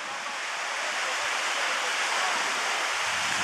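The Kenai River flowing during summer dipnetting, a loud, steady broadband rush of moving water with no pauses, heard up close.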